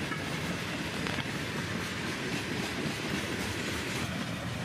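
A long freight train led by -9 and -8 locomotives rolls past on the rails, ending with a big blue CSX boxcar, giving a steady, loud, close rumble with clickety-clack wheel beats throughout.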